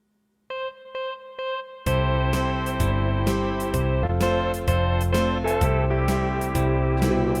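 A keyboard plays the bridge section of a song: a few sparse sustained electronic tones, then a full arrangement with deep bass, steady rhythmic accents and layered chords running loud and continuous to the end.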